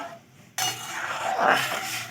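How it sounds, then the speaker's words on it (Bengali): Watermelon paste is stirred in a wok, and after a short quiet start a loud, continuous sizzling scrape of the spoon against the pan fills the rest. "এবারে আমি এখানে তরমুজের পেস্টটা কড়াইতে দিয়ে কড়াইতে দেওয়ার পরে আমি একটু নাড়াচাড়া করে নিচ্ছি"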